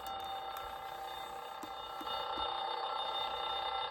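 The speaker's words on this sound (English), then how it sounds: "So that's the chime bell." A Timex Nature Sounds AM/FM alarm clock radio, model T233G, sounding its chime bell alarm: bright, steady electronic chiming tones that ring continuously and fairly loud throughout, with soft intermittent clicks.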